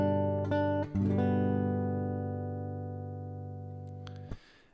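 Fingerstyle acoustic guitar plays a short Silent Night phrase: a few plucked notes and chords ring out near and clear, sustaining and slowly decaying, with a light scrape of fingers on the strings at the end.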